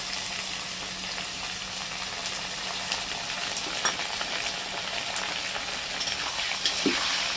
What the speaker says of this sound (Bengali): আলুর সাথে মুগ ডালটাকে ভাজতে হবে।